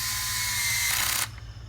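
Power tool on its lowest clutch setting driving bolts into a Holden Alloytec engine, a short close whirring ratchet buzz that cuts out abruptly as the clutch slips.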